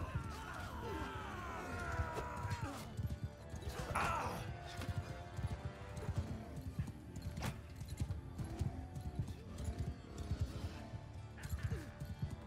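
A horse in the video game Mount & Blade 2: Bannerlord gallops steadily amid battle noise, with a neigh near the start and a busy, low rumble throughout.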